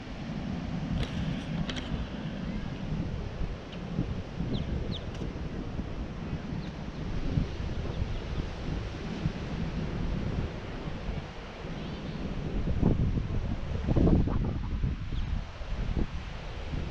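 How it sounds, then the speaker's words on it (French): Soft wind buffets the microphone over a gentle wash of distant surf on Florida's east coast, fairly quiet, with a few stronger gusts and faint rustling. "il y a un petit vent, c'est parfait"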